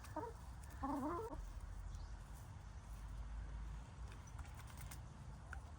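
Chickens on a small farm in autumn give a few faint clucks in the first second or so, then quiet outdoor ambience follows with only scattered soft noises.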